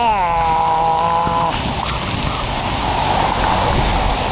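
Heavy downpour pounding a road in Vietnam, a dense continuous hiss of rain with a passing engine tone fading early on, loud and close throughout.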